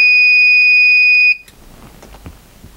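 A digital power supply's over-temperature alarm sounds as one continuous high electronic beep, loud and steady, then cuts off abruptly, leaving quiet room noise and faint handling clicks.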